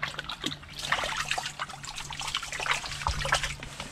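Walleye splashing and trickling as it is let go back into Mississippi River water from a boat, with light sloshing and drips close by throughout.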